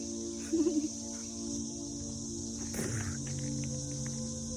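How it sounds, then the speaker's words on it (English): A steady, high insect drone of cicadas hangs over a quiet forest scene, with a few faint chirps and rustles nearby. "I'm sure you can hear all around me all of the cicadas"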